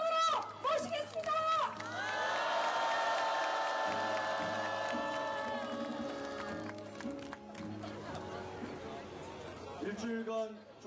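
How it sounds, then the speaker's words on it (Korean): Crowd at a union protest rally in South Korea cheering and applauding, a broad sustained roar of voices and clapping with whoops, while a loud amplified voice rings out over the noise. "힘찬 박수와 함성으로 모시겠습니다."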